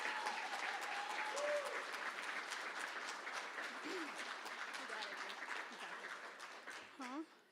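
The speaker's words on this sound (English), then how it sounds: "if you could give them also a round of applause please" Applause from an audience at a student leadership awards event honoring the ILCE board, steady crowd clapping heard faintly and somewhat distant, fading toward the end with a brief squeaky sound near the close.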